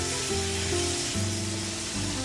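Onions saute in a pan over high flame with a steady, loud sizzle and hiss, plus faint tonal hum layered underneath; continuous and close, with no voices.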